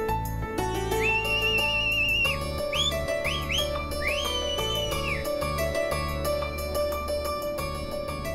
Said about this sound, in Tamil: விசில் அடிச்சு சந்தோஷமா இருக்கேன்னு பாக்குறியா?